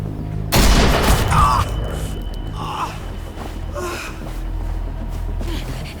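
Gunfire in The Walking Dead: The Final Season, Episode 2, erupts as a sudden loud burst of shots and then trails off into a lingering rumble, with a sharp gasp breaking through near the start.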